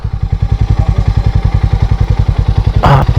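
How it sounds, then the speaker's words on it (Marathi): A motorcycle engine putters close by with a steady, fast, even thumping pulse as the bike rolls in toward a temple, ending in a brief rustling burst. "तर वाटतं बाईक जाते आतमध्ये"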